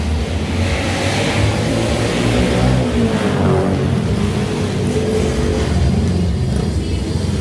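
A group of motorcycles from a motorbike gang revs nearby: a loud, continuous engine roar and rumble that swells and holds for several seconds without a break.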